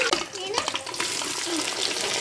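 Chopped onions, green chillies and carrot pieces sizzle in hot oil for a mutton biryani, with a spoon stirring them and a voice speaking over the frying.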